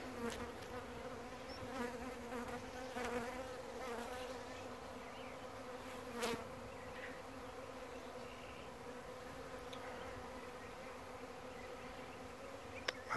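Honeybees from an absconding or swarming hive with a drone-laying queen buzz steadily in the air, a soft continuous hum with occasional individual bees zipping closer, otherwise calm and outdoors.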